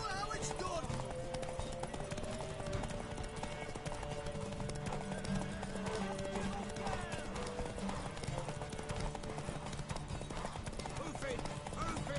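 Horse hooves clip-clop at a rapid galloping rhythm in The Witcher 3 video game, continuous and fairly close, mixed with game music and a character's voice speaking over it.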